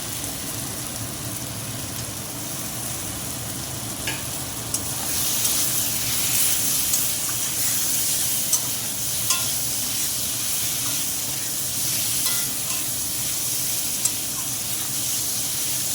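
Boiled potato pieces sautéing in oil for ghugni, a steady close sizzle and hiss throughout with occasional stirring scrapes and clicks, growing slightly louder midway.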